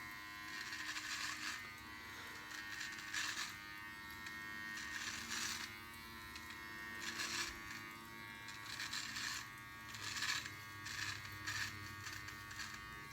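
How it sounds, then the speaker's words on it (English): An electric beard trimmer buzzes steadily up close as it cuts a beard, its whine swelling in repeated strokes as the blades pass against the grain, with no talking. "If you're trimming against the grain on your chin, trim against the grain in all areas of your beard."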